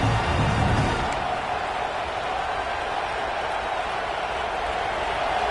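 Crowd cheering at a college football stadium, Auburn versus Clemson, a steady, dense roar filling the whole stretch without sharp peaks.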